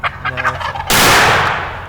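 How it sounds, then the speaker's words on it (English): A wild turkey gobbler in the Missouri woods gobbles in a loud, rattling burst, close by, and a sharp blast like a gunshot cuts in right after it and fades out. "I don't think I've ever heard turkeys gobble as much as they did"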